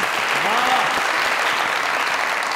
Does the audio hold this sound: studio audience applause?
yes